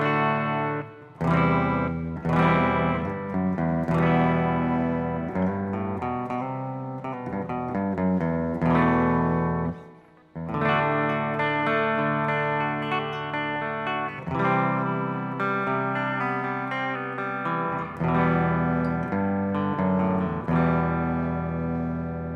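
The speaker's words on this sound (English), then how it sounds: "So I'm just going to play some chords." An electric guitar with Lace Sensor Hot Gold pickups strums a series of clean, ringing chords at a steady pace, with a brief pause partway through.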